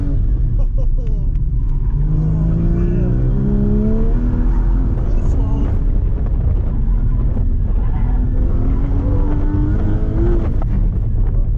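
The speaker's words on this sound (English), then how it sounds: "Getting a ride in a Porsche GT4 with Perry" A Porsche GT4 accelerates hard on an autocross course, heard from inside the car. Its engine note rises and falls in repeated revving sweeps as it shifts through gears, loud and continuous, with people talking over it.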